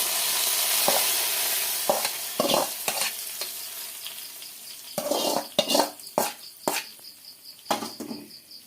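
Hot tempering poured into a pineapple pulissery curry gives a loud burst of sizzling, then a series of sharp scraping and clinking knocks of a spoon against the pan, with no talking.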